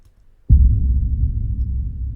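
Trailer-style low boom with boosted low end sounds after a short quiet lead-in, a single deep rumbling hit that sustains loudly and decays slowly with no voice.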